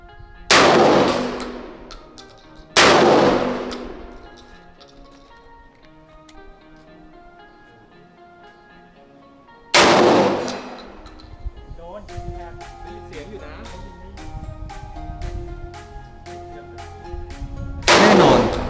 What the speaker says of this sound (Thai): ถัดมาเราลองมายิงที่ระยะ90เมตรโดยเพลทมีขนาด22นิ้วเริ่มจากลูก9หรือลูก OO Buck